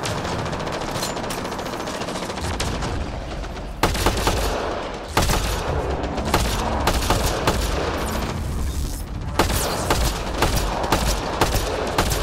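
Gunfire in Mass Effect: Andromeda, sustained automatic bursts of rapid shots with sharp louder blasts scattered through, dense and continuous over a background of combat noise.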